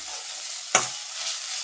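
Salted tomatoes sautéing in a pan for a cauliflower paal kari: a steady soft sizzle throughout, with one brief louder burst of frying midway, close and alone.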